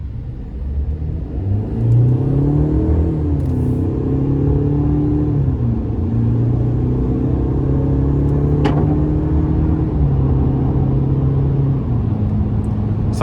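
A 2026 GMC Sierra 1500 TurboMax pickup pulls out of a corner with a steady, moderately loud engine rumble that rises and shifts in pitch through gear changes, heard from inside the cab.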